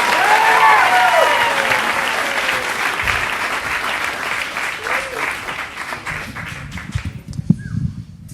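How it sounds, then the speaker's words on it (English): A stand-up comedy crowd claps and cheers as comedian J.Roche is brought on, the applause loud at first and gradually thinning, with a voice and scattered claps near the end. "Everybody start clapping right now for J.Roche."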